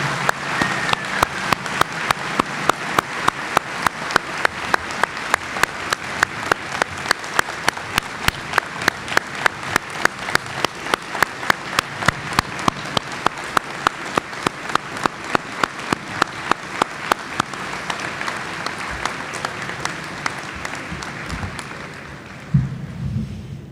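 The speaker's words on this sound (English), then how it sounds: "Let's give them all a round of applause." A graduation ceremony audience at Kaskaskia College breaks into sustained applause, dense and steady for about twenty seconds before tapering off, with no speech over it.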